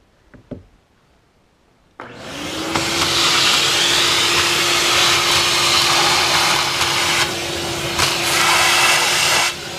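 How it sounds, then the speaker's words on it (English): After a couple of brief knocks, a vacuum cleaner switches on and roars steadily at close range with a constant whine, its pitch wavering slightly. "Vacuum this off."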